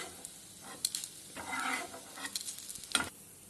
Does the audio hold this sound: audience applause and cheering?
no